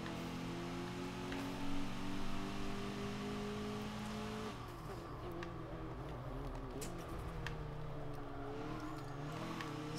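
A slow front-wheel-drive Fiat hums along in the Forza 7 racing game, its engine droning steadily with a pitch that dips and shifts midway, alone and fairly close throughout.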